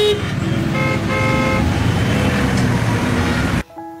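Several car horns toot in short bursts over a dense rumble of street traffic, loud and close, until the noise suddenly drops away.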